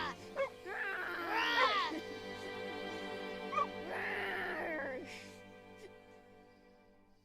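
A dog in Final Fantasy XVI lets out a few high whimpers and yips, two longer whining bursts with short sharp cries around them, up close over a steady game soundtrack drone that fades toward the end.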